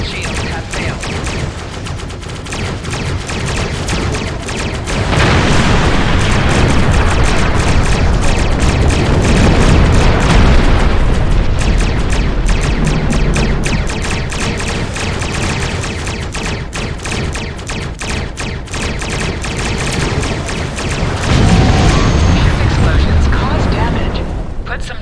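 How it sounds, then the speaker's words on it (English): Ships exploding in a space battle in Star Trek Online, a dense, loud run of booming blasts and rapid gunfire-like bursts, with a voice talking over the din. "And exploding ships."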